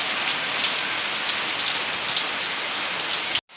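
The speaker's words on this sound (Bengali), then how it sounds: "এসেছে বৃষ্টি" Steady, dense rain pattering on surfaces under an overcast morning sky, a continuous even wash of drops close by that ends in an abrupt cut near the end.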